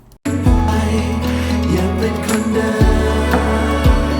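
A full music mix with steady low bass and harmonic layers, punctuated by a few sharp bright hits, a hi-hat made from an acoustic guitar sound, that stand out above the sustained tones.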